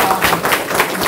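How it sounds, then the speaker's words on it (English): A brief burst of dense audience applause after a lecture at IIT Kanpur, a loud, continuous wash of many hands clapping at once. "I would request everyone to give a very big applause for the speaker and all the round of applause"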